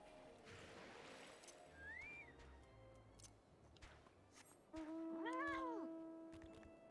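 A cat in the Final Fantasy video game meows twice, a short rising call and then a louder drawn-out one, over a quiet game background with no talking.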